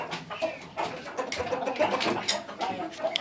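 A backyard flock of chickens with an adult rooster cluck and call in a steady scatter of short, mid-loud sounds, fairly close, with faint rustling between calls and no talking.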